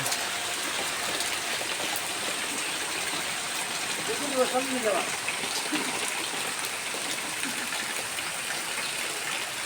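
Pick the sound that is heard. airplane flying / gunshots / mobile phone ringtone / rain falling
rain falling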